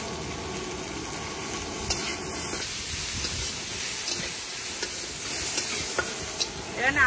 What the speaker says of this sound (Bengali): পেঁয়াজটা মোটামুটি একটু ভাজা যেই হয়ে যাবে